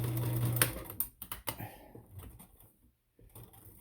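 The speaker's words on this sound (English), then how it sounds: "I'm just backing it up and sewing it" Sewing machine stitching back and forth across fabric, a quiet rapid mechanical patter in short bursts that taper off toward silence, heard close.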